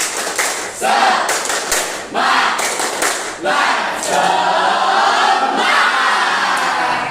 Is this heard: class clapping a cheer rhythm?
yes